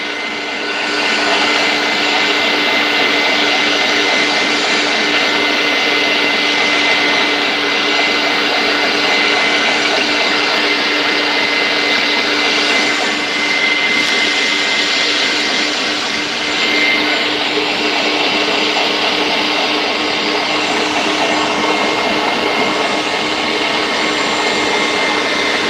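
An electric meat grinder runs continuously while grinding sausage meat in a single pass, giving a loud, steady motor whine with a constant hum and no pauses.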